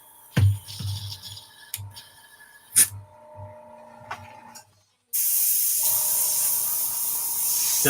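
Clicks and taps give way to a sudden, steady hiss from an airbrush spraying paint. The hiss stays loud and constant to the end.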